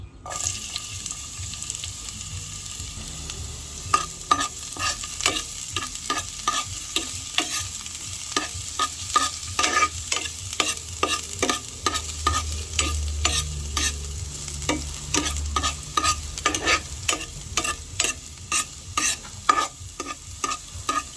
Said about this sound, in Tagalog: ilalagay ko na po itong bawang at sibuyas